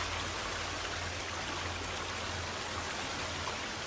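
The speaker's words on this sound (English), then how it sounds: "Water is very, very loud in these caves." Loud, steady rushing of flowing water fills a cave in the video game The Forest, a dense continuous roar with no talk.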